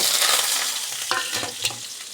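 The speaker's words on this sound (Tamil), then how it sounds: "முட்டைகோஸ் அடிச்சுக்கிட்டு இருக்கேன்" Cabbage poriyal with chana dal stir-fried in a pan on a home stove, a loud steady sizzle up close with spatula scrapes and stirring strokes toward the end.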